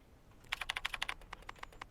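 Rapid keystrokes on a computer keyboard while entering a word in Daymare 1998, a burst of about a dozen crisp, close clicks followed by a few sparser taps, no voices.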